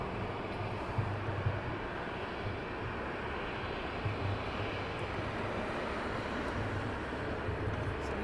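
A British Airways airliner rolls at Heathrow Airport, a steady distant jet engine roar with a low rumble, holding constant throughout without talking.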